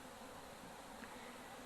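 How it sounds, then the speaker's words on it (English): Swarm of honey bees rushing up into a new hive after being collected from a hedge, a continuous dense buzzing drone, soft and steady throughout with no voices. "It never ceases to fascinate me just watching the bees all rushing up into their new home."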